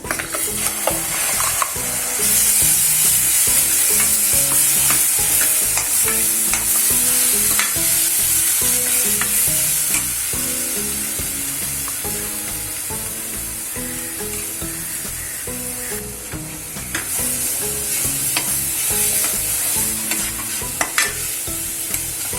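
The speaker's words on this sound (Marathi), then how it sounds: "हे मसाल्याला चांगलं परतून घेऊ" Ground wet masala paste with turmeric, red chilli powder and garam masala sizzles and fries steadily in a pan for white peas usal, with repeated stirring scrapes over a loud, continuous hiss and no talking.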